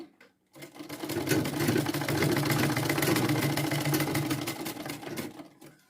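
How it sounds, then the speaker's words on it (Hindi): Sewing machine stitching fabric after being threaded, starting after a brief silence and running as a loud, steady mechanical whir with fast rhythmic needle clatter for about five seconds before stopping. "बस फिर यहाँ पर आपको सिलाई चलाना है।"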